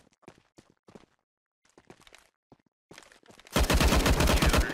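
Rapid automatic gunfire from CS:GO erupts loudly near the end, a dense burst of shots after a stretch of sparse, quieter clicks and footstep-like taps.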